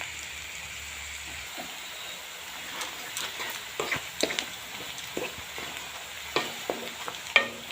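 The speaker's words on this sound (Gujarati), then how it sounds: "ડુંગળી લસણ બંને મસ્ત મજાનું શેકી લઈશું આપણે તેલના અંદર" Onion and garlic fry in oil in a pan, a low steady sizzle broken by several scraping stirs that grow louder toward the end, with no voices.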